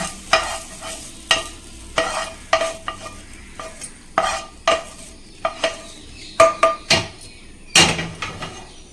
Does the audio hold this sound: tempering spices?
yes